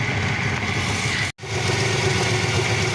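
A Pontiac Trans Am engine with a manifold leak running at a steady rough idle, a low throbbing drone that cuts out for a split second midway, then resumes.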